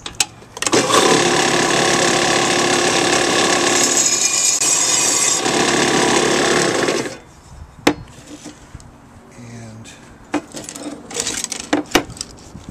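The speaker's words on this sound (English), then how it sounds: "So we're going to grind a little bit more." A power tool grinds a glass extrusion with a loud, continuous, harsh roar for about six seconds. It then stops abruptly, leaving sparse clinks and handling knocks of the workpiece.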